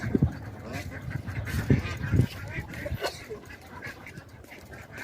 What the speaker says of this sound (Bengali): এখানে আবার হাঁসের খামার